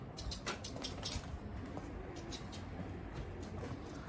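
Pigeons coo steadily in a loft, a low continuous murmur of soft calls with occasional faint higher chirps, close and unbroken throughout.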